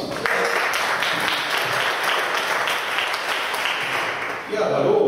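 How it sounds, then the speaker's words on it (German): Audience applause fills the hall at a Twittwoch data-protection event in Munich: steady dense clapping from a crowd for about five seconds, loud and continuous, rising again briefly at the end. "Applaus nochmal für dich."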